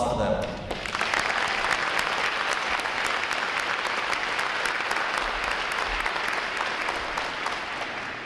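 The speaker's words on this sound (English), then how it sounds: "A round of applause for them." Outdoor crowd applause at a U.S. Navy recruit training graduation ceremony, starting after a brief spoken moment and swelling into steady, wide clapping from a large audience that carries on for several seconds.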